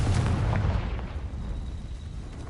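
A Confringo blasting spell goes off in the Hogwarts Legacy video game, a loud booming blast with heavy low rumble that fades into a lingering roar.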